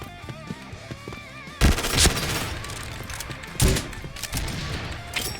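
Gunfire in the shooter game Point Blank: rapid bursts of automatic rifle fire with two loud sharp volleys, layered over game music and effects and no talk.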